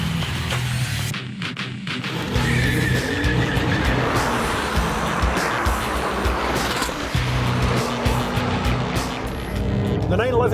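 A Porsche 997 911 GT2 RS engine roars at speed with tires squealing and skidding on a race track, sustained and loud, with a voice audible at times.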